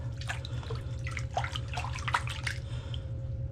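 Water splashes and trickles softly and steadily while a deer skull is lowered through and lifted out of a hydro-dipping tank, with scattered drips over a low rumbling background.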